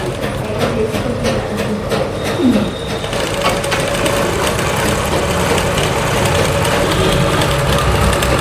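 Sewing machine stitching a blouse back seam during a tailoring class, a steady continuous mechanical whir running throughout at close range with no talk.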